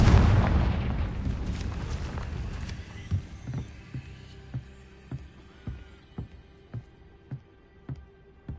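A Confringo spell in Hogwarts Legacy sets off a loud fiery blast that rumbles and decays over a few seconds, followed by a run of sharp rhythmic thuds about every half second, close and without speech.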